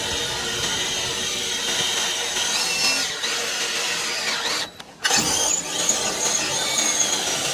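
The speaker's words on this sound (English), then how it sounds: "so we're just gonna drill it and bolt it." A power drill bores through metal to bolt on a solar panel mount, a loud whining grind that runs continuously, drops out briefly near the end, then resumes.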